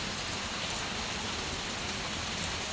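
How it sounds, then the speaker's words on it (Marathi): Steady monsoon rain falls continuously at home, a dense even hiss of drops on surfaces filling the whole stretch with no talk. "कमी झाला आहे पाऊस"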